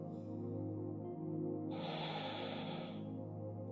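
Deep rhythmic breath during a Sun Salutation yoga flow, a steady airy inhale or exhale rising to a broad hiss midway, close and alone over faint background hum.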